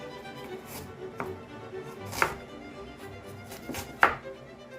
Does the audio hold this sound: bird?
no